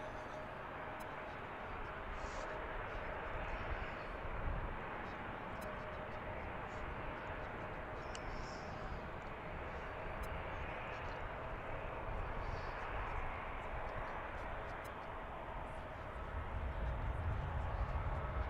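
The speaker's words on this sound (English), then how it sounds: "the next arrival is United 1678 from San Francisco, 737 MAX 8" A United Boeing 737 MAX 8 arriving at Washington National Airport, heard as a steady, broad jet engine roar that holds loud and rumbling throughout, swelling slightly near the end, with no speech.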